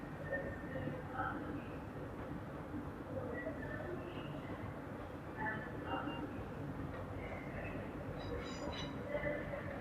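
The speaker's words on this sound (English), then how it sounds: "now arriving is a terminating London North Western Railway service from Stafford" A London Northwestern Railway Class 350 electric train arrives at Crewe station on the West Coast Main Line with a low rolling rumble and scattered high wheel squeals and clanks, moderately distant, with a voice speaking over it.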